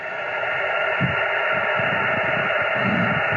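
Steady hiss and crackle of ham radio static on a Yaesu FT-857D receiver running low power from a battery, with faint low thumps fluttering underneath and no voices.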